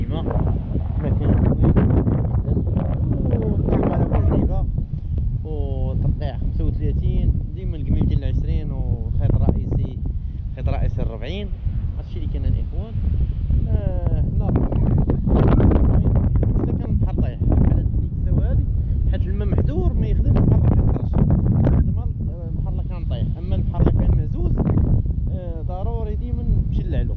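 Strong gusty wind buffets the microphone on a Moroccan seashore at Oualidia during a fishing trip, a constant loud roar throughout while someone talks over it almost continuously.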